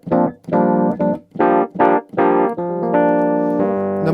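Yamaha CP88 stage piano playing a Rhodes electric piano patch: a run of short, bell-like chords in a stop-start rhythm, ending on a longer held chord, close and clear with no voices.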